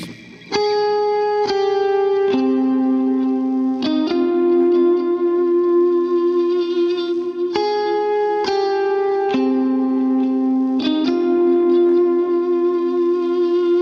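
Electric lead guitar plays a slow melodic line of sustained notes, thick with effects, distortion and chorus-like shimmer, loud and close.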